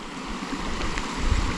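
Tyndon Creek flows beneath a small footbridge on the Pacific Crest Trail, a steady close rush of moving water with gusty wind buffeting the microphone toward the end.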